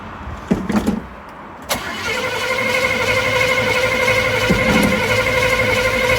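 An old truck engine cranks after the gas pedal is pumped: a few sharp clicks and clunks, then a loud, steady, whirring crank that runs on without catching, close up and alone.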